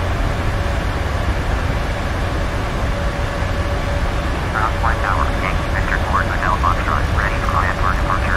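Dash 8 turboprop airliner engines drone steadily and loudly from nearby at a runway before takeoff, a broad constant roar with a faint whine, while radio-style voices speak over it in the second half.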